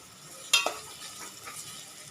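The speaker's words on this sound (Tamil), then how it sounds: "வெறும் வெங்காயத்தை நல்லா கோல்டன் ப்ரௌன் அளவுக்கு வறுத்து எடுத்துக்கணும்." Onions fry in oil toward golden brown with a quiet, steady sizzle, broken by one sharp scrape of a spoon stirring the pan, heard close and alone.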